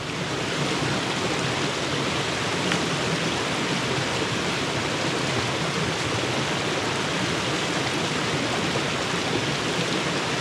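Small waterfalls in a forest stream rush continuously, a dense, even roar of falling water that holds steady and fairly loud throughout, with no voices.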